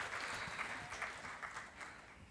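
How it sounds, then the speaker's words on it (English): Audience at a security and safe-cities conference gives a round of applause, a soft, dense, steady patter of many hands clapping for a couple of seconds, fairly faint and heard without speech. "A round of applause for our two interesting policemen."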